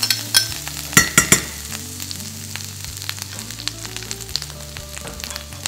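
Onion fries in butter and oil in a pan and is stirred, with several sharp utensil scrapes and clacks at the start over a steady sizzle that carries on alone.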